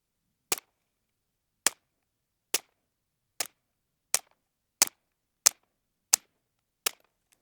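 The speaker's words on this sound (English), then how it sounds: "Now we got some CCI Standard Velocity loaded in here." Nine sharp, loud .22 rimfire gunshots from a Derya Arms TM22 firing CCI Standard Velocity ammunition, spaced roughly evenly about a second apart, each a crisp crack with silence between, no talking.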